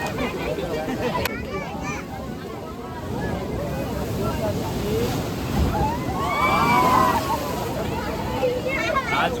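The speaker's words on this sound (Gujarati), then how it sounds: "આજ ગોમતી ઘાટે આમ સવારે જ્યારે આવડા મોજા નતા આવતા, અને અત્યારે જોવો તમે" Large sea waves wash and slosh against the steps at Gomti Ghat in Dwarka, a continuous rolling surge under wind buffeting, with faint voices of people nearby mixed in.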